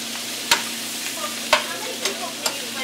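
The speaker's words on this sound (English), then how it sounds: "Now what we want to do is add our cabbage." Cabbage frying with bacon in a pan, with a steady faint sizzle and a few sharp scrapes of a utensil stirring, spaced irregularly and heard up close.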